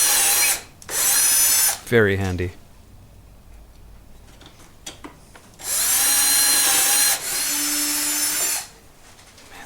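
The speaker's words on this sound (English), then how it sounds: "now you can use the actual drill mate from this kit again as a" Power drill boring holes into wood through a drill guide on a workbench, two long steady whirring bursts with a brief clatter between, plus a short spoken remark.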